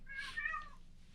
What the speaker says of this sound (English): I don't know if that was a kid or a cat outside that died.